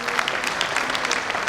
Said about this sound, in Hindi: एक बार जोरदार हाथ ताली उनके लिए।